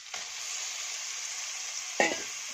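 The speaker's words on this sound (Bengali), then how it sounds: "এবার এর ভেতর মাংসগুলো দিয়ে দেব।" Chicken meat goes into frying spices and is stir-fried, a steady hiss of sizzling with a quick scrape near the end, close and quiet.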